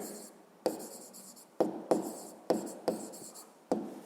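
Pen writing out a math answer by hand on paper, quiet scratching strokes that come in short bursts with sharp taps as the pen touches down, close and soft with no talk.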